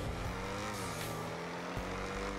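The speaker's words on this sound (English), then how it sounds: "This Mercedes right here, this thing is insane. Just listen to the sound though." A Mercedes car engine in GTA V drones and revs steadily for a couple of seconds, a low, fairly quiet motor roar with a brief tire-like squeal near the end, no voices.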